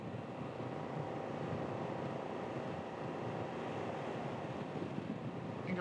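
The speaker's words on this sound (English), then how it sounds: "wow, that wind's cold" Cold wind roars steadily past an Africa Twin motorcycle riding at around 100 km/h near a mountaintop, a constant rushing buffet with the engine drone buried beneath, no voices.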